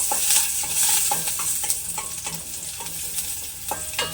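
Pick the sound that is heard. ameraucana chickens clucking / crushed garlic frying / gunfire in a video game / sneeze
crushed garlic frying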